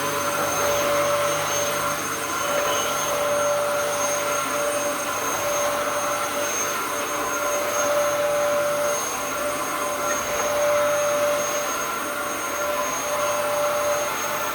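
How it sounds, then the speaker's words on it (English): A Dyson vacuum cleaner runs continuously at home during afternoon cleaning, a steady close whine and rushing airflow that drones on evenly without pauses. "I'm just going to vacuum with the Dyson till the timer goes off"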